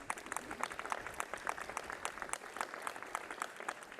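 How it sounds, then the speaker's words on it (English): An audience at the Kirksey Old Main ribbon cutting ceremony breaks into steady applause, a dense, even patter of many hands clapping at moderate distance for the whole stretch, with no voice rising above it. "Let's give that a round of applause."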